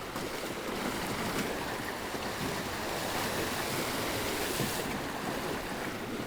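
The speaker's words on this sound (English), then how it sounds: "I think some of these waves are probably a couple of feet high" Waves a couple of feet high on Loch Ness, heard from a small sailing dinghy surfing down them, a loud continuous rushing wash of water mixed with gusting wind buffeting the microphone, no speech.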